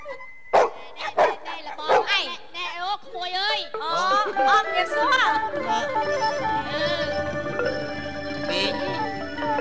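A dog barks in a quick series of sharp, loud woofs and yips, close by. People then talk over the remaining seconds as the barking stops.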